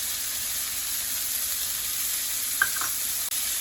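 Onions and mushrooms stir-frying in oil in a pan, a constant close hiss and crackle with a couple of sharp utensil clinks near the end, no talking.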